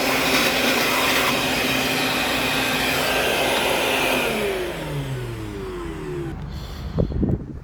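A vacuum cleaner runs loud and steady while cleaning parts of a Cummins Onan 7.5kw Quiet Diesel generator during a rebuild, then winds down with a falling whine before a few knocks at the end.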